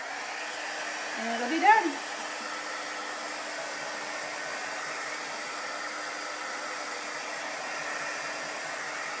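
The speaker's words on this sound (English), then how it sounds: "So I'm going to dry it with my dryer." Hair dryer drying chalk paste on a farmhouse laundry sign, a steady close whooshing hiss of blown air running throughout, with a brief spoken phrase near the start.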